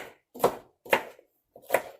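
Three crisp knife chops through washed, peeled celery land on a cutting board at an even rhythm, each a sharp close thunk separated by brief silence, with no talking.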